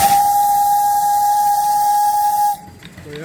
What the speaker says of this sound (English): I want to talk about this whistle here.